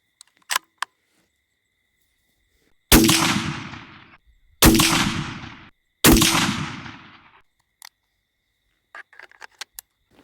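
Three loud, close .223 rifle shots ring out a couple of seconds apart during scope sighting-in, each a sharp crack with a decaying echo, followed by a few faint clicks and small handling noises.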